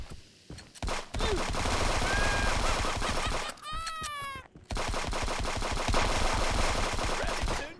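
Video game gunfire comes in rapid, loud automatic bursts with a brief break midway. A short squeaky tonal sound fills the gap before shooting resumes.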